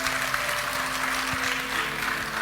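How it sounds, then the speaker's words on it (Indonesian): A church congregation claps during an online Sunday worship service, a steady wash of applause with sustained keyboard tones ringing underneath. "Tepuk tangan buat Tuhan Yesus."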